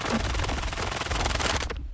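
In the shooter game STALKER 2, the Fora-221 assault rifle fires a rapid, sustained automatic burst, sharp close shots packed tightly before the firing cuts off near the end.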